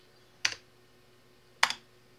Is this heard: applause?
no